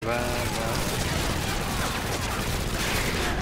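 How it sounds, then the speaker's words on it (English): Rapid bursts of gunfire from a Call of Duty MW3 campaign mission, dense and loud, blending into a continuous barrage of shots and booms throughout. "I shot him in the ankle and he died."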